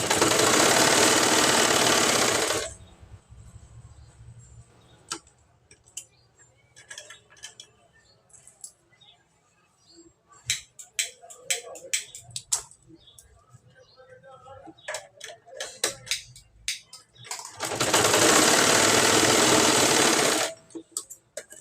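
A sewing machine stitches tucks on a plain blouse in two loud, steady runs, one at the start and one near the end, with fabric handling and talk in the quieter stretch between.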